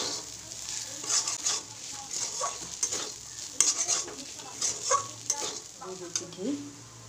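Ghee drizzled over flattened rice pulao in a hot pan gives a soft, steady sizzle, broken by a few stirring scrapes and light clinks of a utensil against the pan.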